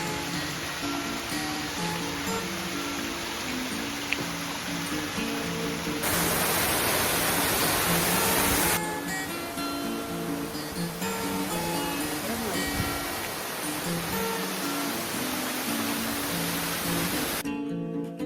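Baba waterfall at Amboli in the Maharashtra hills, a continuous broadband roar of falling water that stays steady and fairly near, shifting slightly in texture partway through, with no voices.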